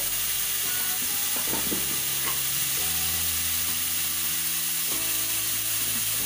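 Carrots and beans tumble into a hot pan and are stirred, a steady close sizzle and hiss under scraping and clattering, with a low hum running through it.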